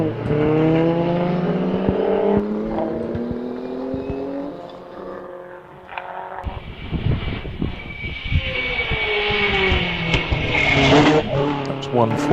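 Vintage race car number 141 climbing Wiscombe Park hillclimb at a VSCC event, engine note rising through revs, dropping on a gear change, then howling up again loud and close, with a commentator talking over it.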